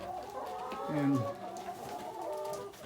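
Chickens crowded into a small coop cluck and murmur softly at moderate distance, one brief louder call standing out midway, while someone speaks quietly.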